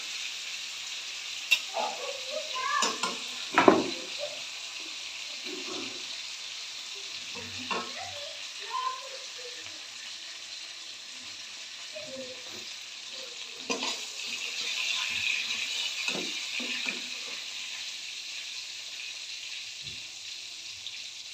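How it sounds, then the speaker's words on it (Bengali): Fish frying in hot oil in a pan, a continuous crackling sizzle with scattered pops and spatters, close and fairly quiet, almost no talking. "মাছ ভাজা"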